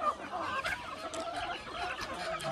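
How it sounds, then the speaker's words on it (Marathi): Free-range desi village chickens cluck and murmur on a farm, several birds close by with scattered short calls over a low yard background. "हे आपलं मुक्त संचार गावरान कोंबडी पालन आहे"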